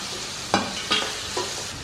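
Chopped ginger and onion frying in oil for a tangy ginger curry, a soft sizzle broken by three distinct scraping stir strokes, close and without talk.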